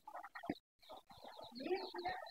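Chickens cluck near their feed in a farm setting, a close, quiet run of short clucks and murmurs broken by a brief silence partway through.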